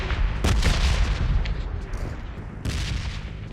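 Video game bomb explosions: booming blasts burst out loud and close, one heavy hit early, rumbling decay, then another strong burst near the end, with no talking.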